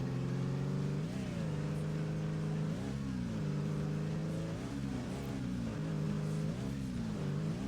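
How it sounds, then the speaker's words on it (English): A labored ATV engine in a video game drones with wavering, strained pitch that dips and rises unevenly, steady and moderately loud without pause. "That engine is struggling. My god, listen to that thing."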